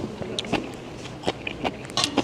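Crisp, crunchy bites of salted pickled radish repeat irregularly up close, each a quick snap over quiet chewing.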